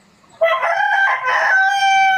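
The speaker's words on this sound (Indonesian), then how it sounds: "Biar tidak ada suara ayam-ayam berkokok begitu ya." A rooster crows once, loud and close, a single drawn-out cock-a-doodle-doo that rises sharply and holds a long ringing final note, with no other sounds around it.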